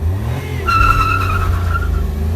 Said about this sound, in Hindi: तो भाई अभी रेस को कर लेते हैं स्टार्ट